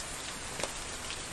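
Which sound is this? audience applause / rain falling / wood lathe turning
rain falling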